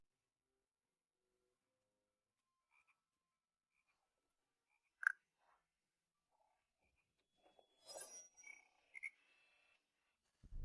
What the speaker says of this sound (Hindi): इसके अंदर से मेंढक की आवाज आ रही है।